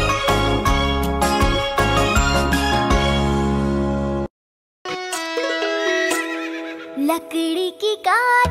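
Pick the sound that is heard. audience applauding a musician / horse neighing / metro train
horse neighing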